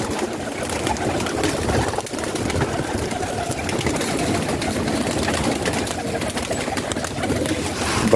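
Hungry pigeons at a pigeon club loft coo steadily in a thick, continuous low murmur of overlapping calls, with a faint engine-like hum underneath and no talking.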